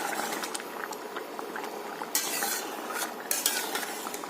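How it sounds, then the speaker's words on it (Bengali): Spiced potato curry, Kashmiri aloo dum, simmers and is stirred in a pan, with a steady bubbling sizzle and occasional scraping strokes close up. "মশলা কষিয়ে এই যে জল দিয়ে দিয়েছি, আলুটা প্রায় আমার অনেকটা সিদ্ধ হয়ে গেছে।"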